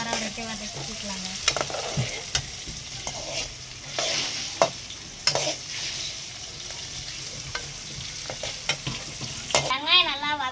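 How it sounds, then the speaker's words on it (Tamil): Onions sautéing in a pan until brown, a steady sizzle broken by repeated sharp scrapes and clinks of a spatula stirring, close and fairly loud throughout. "வெங்காயத்தை நல்லா ப்ரௌன் கலரில் வர வரைக்கும் வதக்கிக்கலாங்க"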